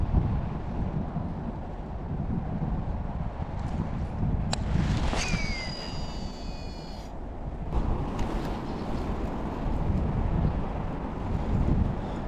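Wind blows across the microphone outdoors during bass fishing, a steady rumbling gust noise throughout, with a brief faint higher whine partway through.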